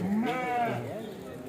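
A single wavering sheep bleat, fairly close, with faint crowd murmur behind it at a busy outdoor weekly sheep and goat market in Kadiri.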